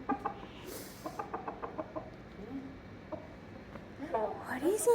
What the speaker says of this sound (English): he's a very happy little rooster